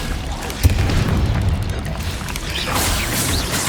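A Confringo explosive spell cast in the Hogwarts Legacy video game, heard as a sharp impact followed by a sustained rumbling, mechanical roar of combat effects that continues loudly through the whole stretch.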